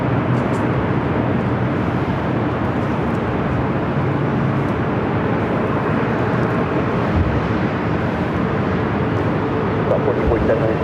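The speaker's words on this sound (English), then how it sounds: "There, we got that Air France heading to Paris." An Air France airliner at Los Angeles LAX airport produces a loud, steady broadband jet roar that holds constant from start to finish, with no voices heard.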